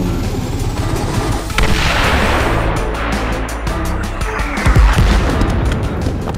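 A nuclear tank shell explodes in a tank cartoon with a loud, rolling blast and a long roaring rumble that swells, fades and rises again in a deep thump near the end.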